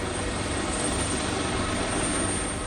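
Army helicopters evacuating ministers during street protests in Nepal, a steady loud rotor and engine roar that fills the whole clip with no pauses and no voices.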